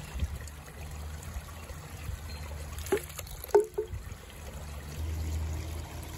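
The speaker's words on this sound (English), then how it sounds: "I also needed to add some rocks inside the delivery system to make the water dribble out" Water dribbles from the rock-filled delivery system of a Japanese shishi-odoshi deer scarer, a soft continuous trickle with a couple of brief knocks and splashes partway through.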